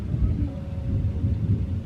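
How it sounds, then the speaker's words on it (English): Thunder during a heavy rainstorm, a low continuous rumble rolling steadily beneath faint background noise, heard from indoors. "this big like thunder."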